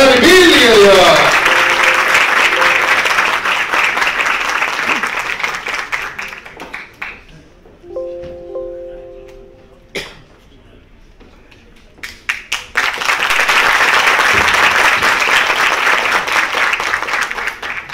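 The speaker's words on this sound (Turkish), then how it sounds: "Büyük bir alkışla Mehmet Ali Erbil geliyor." Loud applause from a crowd greets Mehmet Ali Erbil's arrival at a film premiere. It opens thick and steady, thins to sparse claps and a brief tonal interlude midway, then surges back to full clapping.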